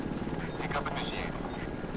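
A helicopter arrives at the extraction zone in the Division 2 video game, with a steady rotor rumble and whine. Game voice announcements play over it.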